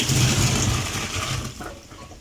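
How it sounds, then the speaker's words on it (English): Cold tap water running over freshly drained pasta in a sieve, a steady close splashing rush that fills the short span, softening slightly toward the end with no talk. "you sieve it and then run it on cold water"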